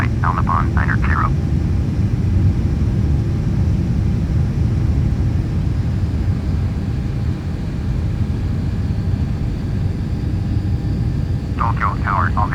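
A Boeing 767-300ER taking off in the FS2004 flight simulator game, a loud, steady roar of jet engines filling the whole span, with short radio voice bursts at the start and near the end.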